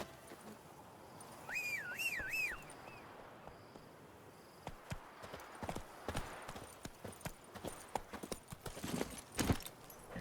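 Roach, Geralt's horse in the video game The Witcher 3, galloping with steady rapid hoofbeats under a whistled tune early on, with a scattering of sharper clattering hits later.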